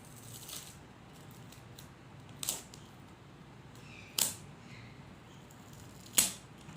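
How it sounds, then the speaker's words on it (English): Tape peeled off a finished painting, three short ripping tears spaced a couple of seconds apart, close and crisp against a quiet room hiss with no talk. "And now I will just take out this tape also."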